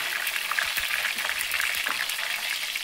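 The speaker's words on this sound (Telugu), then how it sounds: "తర్వాత ఆవాలు వేద్దాం" Mustard seeds, curry leaves and dried red chillies sizzling in hot oil for a Telugu raw banana curry, a steady bright crackling hiss with scattered small pops and spits throughout.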